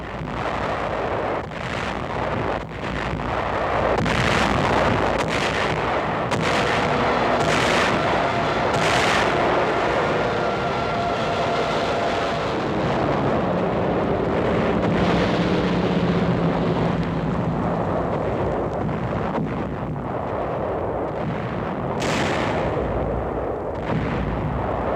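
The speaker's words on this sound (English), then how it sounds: "5 successive days of bombing and shelling climax the pre-invasion foray" Naval and aerial bombardment shelling beaches ahead of the 1944 landings in the Palau group, a dense, continuous roar of heavy booms and repeated blasts with rumbling thuds, loud and sustained over wartime newsreel noise.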